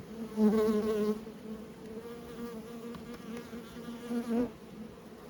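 Buckfast honey bees buzz steadily inside an open hive during a frame inspection, a close, continuous droning hum that swells and eases slightly throughout.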